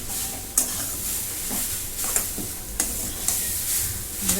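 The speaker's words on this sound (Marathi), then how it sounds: "अजून याच्यात मी थोडस तेल सोडून घेते आणि एकदा आता परतून घेते त्याला" Ground chana dal pithla frying in oil in a pan and stirred, a continuous bright sizzle with regular scraping strokes of the spatula about every half second to second.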